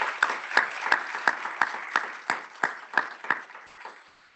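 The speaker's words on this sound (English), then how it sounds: "Let's give them another round of applause." A small audience at a national student-success summit claps in a sparse, evenly spaced rhythm. Sharp individual claps ring out clearly before tapering off toward the end.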